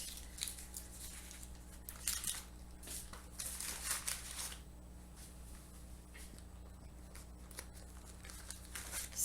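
Parchment paper holding tomato paste crinkles and rustles as it is handled inside a silicone Ziploc bag, soft close scratchy crackles in irregular bursts, fairly quiet, with no talking.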